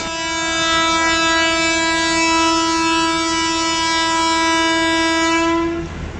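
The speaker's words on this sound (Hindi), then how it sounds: "HPU 208084 ने हॉर्न दे दिया है रवानगी के लिए" A locomotive horn on the Mehr Express passenger train from Multan to Rawalpindi, Pakistan, sounds one long, loud, steady tonal blast lasting nearly six seconds before cutting off, heard from nearby on board in an AC cabin as the train departs.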